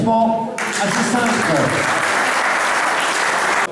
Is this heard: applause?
yes